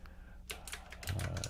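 Someone types on a computer keyboard, producing a quick run of close, crisp key clicks that grows slightly denser toward the end.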